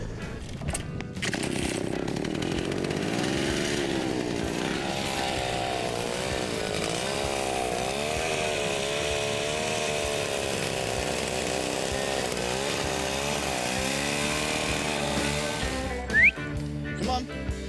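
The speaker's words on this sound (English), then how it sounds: "That is a fancy chainsaw." A fancy chainsaw with throttle runs continuously for a long stretch, its engine drone steady and fairly loud with slight pitch wavering, heard outdoors near a ger camp in Mongolia before cutting off near the end.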